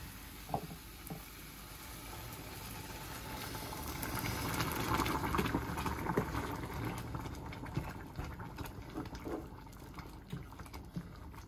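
Greens cooking in a pot after water is added give a quiet bubbling, simmering sound with soft liquid patter and small pops, building slightly in the middle.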